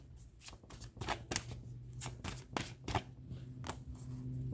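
Tarot cards being shuffled by hand in repeated quick riffling bursts, soft and near, with short pauses between the flurries and no speech.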